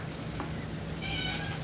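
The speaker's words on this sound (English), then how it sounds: "the cat's upset." A cat meows once, faint and short, against a low steady hum and hiss in a household laundry setting.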